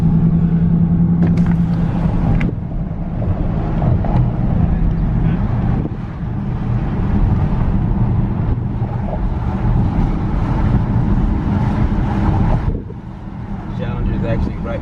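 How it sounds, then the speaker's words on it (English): A 2019 Dodge Charger R/T Daytona's engine drones steadily from inside the car while driving on a street, a low continuous rumble with wind noise, easing off briefly near the end. "we can kind of hear what it sounds like under load"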